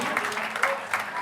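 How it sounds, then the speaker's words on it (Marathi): Steady applause from an audience at a school prize distribution ceremony, honouring a professor, a dense continuous patter of many hands clapping at moderate distance throughout. "जोरदार टाळ्या"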